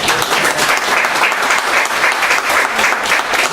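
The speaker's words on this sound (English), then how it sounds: "so you got a round of applause." Steady, dense applause from an audience at a community kickoff event, loud and continuous for the whole stretch with no voices breaking through.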